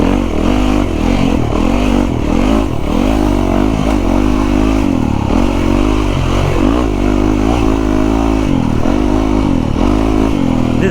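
A Yamaha YZ450FX dirt bike engine revs hard and continuously, loud and close, with repeated throttle blips rising and falling over a steady roar.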